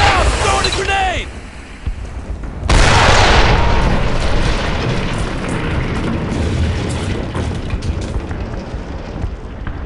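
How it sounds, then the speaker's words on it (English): A grenade explodes in a Brothers in Arms World War II battle scene: a shouted voice comes first, then a sudden loud blast that leaves a long, heavy rumble of debris and battle noise. "I'm throwing a grenade!"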